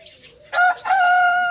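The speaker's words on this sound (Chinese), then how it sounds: "这又来了一个大公鸡。" A large rooster on a grandfather's farmyard crows once nearby, a loud drawn-out call rising after a short opening note and holding steady to the end, with faint background quiet before it.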